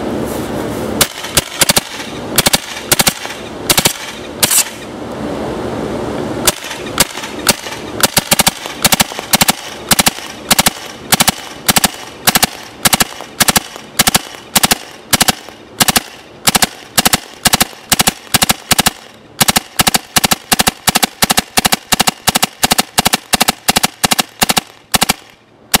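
A paintball marker fed by a Dye Rotor loader fires repeatedly, loud sharp pops at first, then tight clusters of three-shot bursts separated by short pauses, close and alone.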